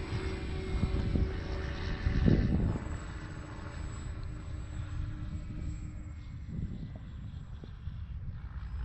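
A small X-Fly Twin Nova twin-engine RC airplane takes off into the wind on a sunny afternoon, its propeller drone heard from a distance as a steady rumble, buffeted by wind noise on the microphone.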